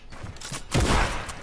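A combat shotgun in Fortnite zone wars, with faint mechanical clicks followed by one loud, close blast whose boom trails off briefly.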